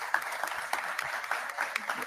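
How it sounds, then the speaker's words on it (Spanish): A panel audience at a conference on geoeconomics and energy applauds a speaker named Guillermo, moderate clapping with distinct sharp individual claps over a steady patter, with some voices beneath. "vamos a dar un fuerte aplauso para Guillermo"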